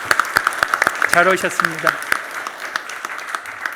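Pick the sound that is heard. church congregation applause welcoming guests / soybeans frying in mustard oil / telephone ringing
church congregation applause welcoming guests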